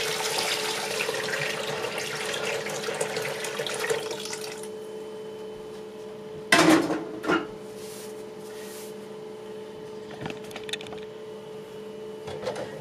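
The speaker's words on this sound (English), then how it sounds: "I'm going to fill the globe with water" Tap water runs steadily into a glass oil-lamp globe with a little homemade laundry soap for suds, a close, continuous rush for several seconds, then it stops, leaving clinks and small drips.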